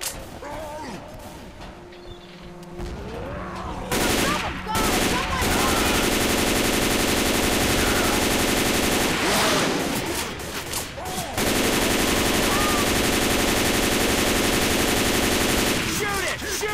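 Sustained gunfire from Left 4 Dead 2 survivors shooting at the Tank, with dense rapid bursts that run nearly continuously, loud and close, and brief pauses between volleys.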